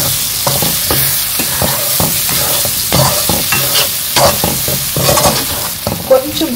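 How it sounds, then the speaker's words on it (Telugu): Ground spices, chilli powder and coriander powder, fry in a pan over a low flame while a spoon stirs them in steady, repeated scrapes over a continuous soft sizzle, close and moderately loud, with no talking. "వేసి స్టవ్ సిమ్ చేసుకొని కొంచెం అలా ఫ్రై చేసి టమాటోస్ వేసేయండి."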